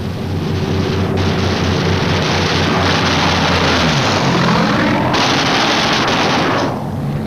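Roar of World War II B-29 bomber formations with Japanese fighters diving head-on at them, a loud continuous broadband rumble of engines in flight with cracks of gunfire-like bursts throughout.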